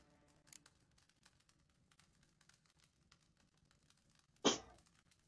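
A single short, sharp sneeze rises out of a quiet background of faint clicking, loud and close, with a smaller burst just before it.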